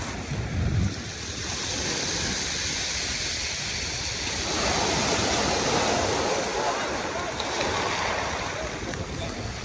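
Sea waves wash onto Brighton beach along the seafront in a steady, broad rushing surge that swells partway through, with wind buffeting the microphone throughout.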